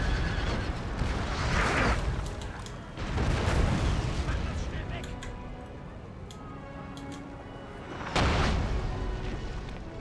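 Artillery guns in the Napoleon: Total War game fire in heavy, rumbling booms, with two or three big blasts a few seconds apart over a continuous roar of distant gunfire and battle noise.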